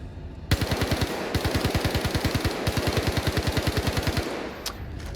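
Sustained automatic weapon fire in the Star Citizen first-person shooter, a steady rapid burst of evenly spaced loud shots running several seconds with a brief pause midway, nothing else heard.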